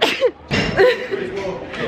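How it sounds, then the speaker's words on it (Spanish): People sneeze and cough in a crowded, pungent spice market in India, several sharp bursts following one another close by, mixed with chatter and voices all around. "Todo el mundo está estornudando,"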